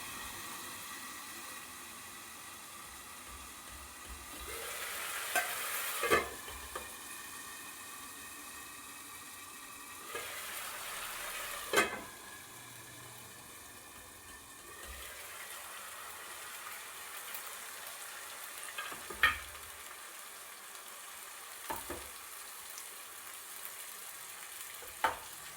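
Onions fry quietly in a pan, a faint soft sizzle broken by several louder clanks and stirring knocks spaced a few seconds apart, no talking.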